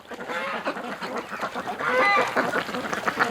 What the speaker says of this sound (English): somehow a Peking drake didn't get called. That's a Peking drake.